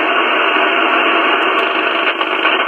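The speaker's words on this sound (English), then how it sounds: "You can hear like an ignition noise." Steady ignition noise picked up on a Trio R1000 shortwave receiver, a dense continuous hiss-like buzz with faint rapid ticking, heard alone and fairly loud.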